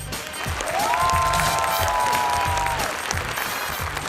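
A TV game show studio audience applauds steadily throughout, a dense wash of clapping with a sustained tone sliding in over it partway through.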